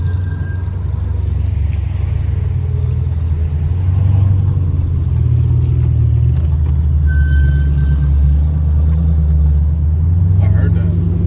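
A deep, continuous Dodge car engine rumble drones throughout, heavy and steady at the low end, with faint higher tones drifting in.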